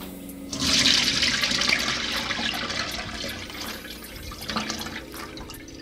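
Soaking water for chiktay mori, a Haitian salted-fish dish, draining through a colander, a close, steady rushing pour that starts abruptly and keeps splashing and trickling to the end, with no voices.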